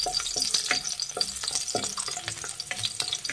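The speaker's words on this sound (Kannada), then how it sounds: "ಸ್ವಲ್ಪ ಬೆಳ್ಳುಳ್ಳಿ ಫ್ರೈ ಆಗಲಿ" Crushed garlic spits and crackles in hot oil for uppsaaru khara, loud and close, with a dense run of sharp pops over a bright sizzling hiss and no speech.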